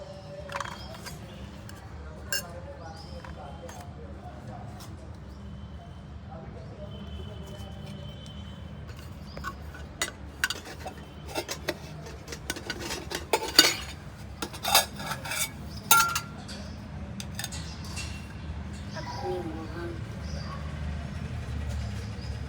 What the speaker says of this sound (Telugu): ఇప్పుడు దీని మీద ఒక మూత పెట్టేద్దాం.